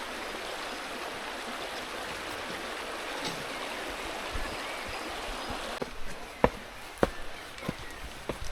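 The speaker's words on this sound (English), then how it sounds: "I can hear running water" Steady broadband rush of a flowing stream fills the whole stretch, with a few sharp clicks and knocks near the end, like footsteps or stones.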